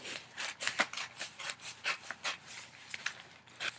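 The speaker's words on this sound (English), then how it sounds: "you're going to take your scissors, and you're going to cut on the fold here" Scissors cut along the fold of a newspaper in a quiet indoor craft setting, a close series of crisp rustling snips repeating at an uneven, steady pace.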